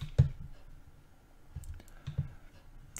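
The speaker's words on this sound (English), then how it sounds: "So click on Start Now." A couple of soft, close computer mouse clicks on a website button stand out against a quiet background, with a few faint ticks between them and no speech.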